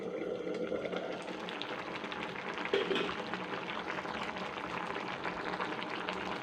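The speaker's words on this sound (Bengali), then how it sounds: "পাঁপড়গুলো দিয়ে আর 1 মিনিট ফুটিয়ে নেব" Papad curry simmers under a lid in a covered pan, a soft continuous bubbling hiss that stays faint and steady throughout with no talking.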